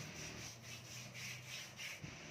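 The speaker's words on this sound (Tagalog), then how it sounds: "scrub lang tayo ng scrub guys habang matanggal yung mga dead skin sa ating braso" Body scrub rubbed back and forth on the skin of an arm, a soft, steady rasping swish in repeated strokes, close and quiet with no talking.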